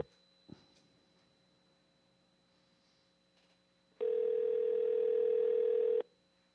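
A telephone dial tone sounds steadily for about two seconds while a phone call is being placed, loud and constant, then cuts off abruptly after a short stretch of quiet room noise and a small click.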